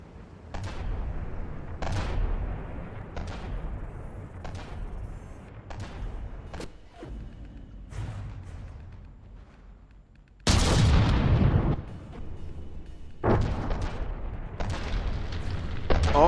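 Tank shells fire in a landship battle video game between the Itztli and the Jugulum: a series of sharp booming cannon shots at irregular intervals, one louder, longer blast near the middle, then further shots.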